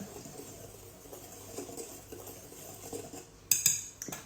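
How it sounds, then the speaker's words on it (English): A spoon clinks and scrapes quietly in a bowl as caster sugar is stirred into flour, bicarb soda and salt, ending with a couple of louder taps against the rim. "we're just going to stir those together"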